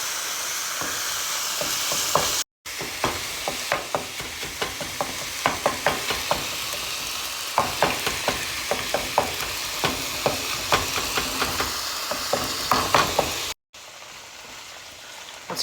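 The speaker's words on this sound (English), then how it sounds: "And then you're just basically cooking the vegetables into your meat." Ground meat and vegetables for spaghetti sizzle and fry in a pan, with a steady crackle and repeated stirring scrapes throughout, close and fairly loud, with no talking.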